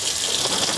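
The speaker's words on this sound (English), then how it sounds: "I like the arch and the faucet. Let's turn this on." A kitchen faucet in a Keystone Carbon toy hauler RV runs into the sink, a brief steady hiss of gushing water heard close and alone.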